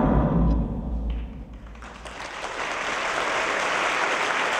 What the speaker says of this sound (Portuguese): Por favor, aplaudam a estrela dessa noite.